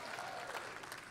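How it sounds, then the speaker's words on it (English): An audience at a PechaKucha talk claps in a brief, steady burst of applause, a dense even patter heard from within the room with no speech over it. "Okay, clap it up."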